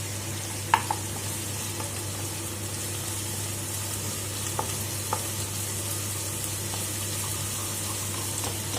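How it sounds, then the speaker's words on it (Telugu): Ginger garlic paste frying with turmeric in a pan for a taro and tomato curry, giving a steady, even sizzle throughout with a few faint utensil taps, close and constant. "అల్లం వెల్లుల్లిపాయ పేస్ట్ కొంచెం పచ్చివాసన పోయేంత వరకు ఫ్రై చేసుకోవాలి"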